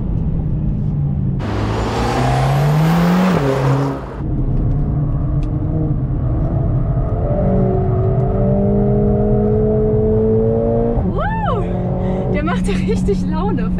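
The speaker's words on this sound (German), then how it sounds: "Ich hätte nicht gedacht, dass der Wagen so laut ist." A Mercedes-AMG A45 S engine drones loudly and steadily, pitch rising and falling as it accelerates and shifts, with a brief dip partway and people talking over it.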